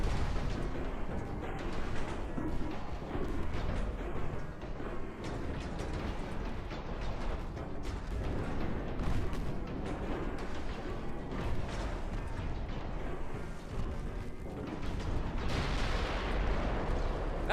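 Warship guns firing in the naval battle game Ultimate Admiral Dreadnought, a long steady stretch of distant booming salvos and rolling thunder, shots overlapping into a constant dull roar with no pauses.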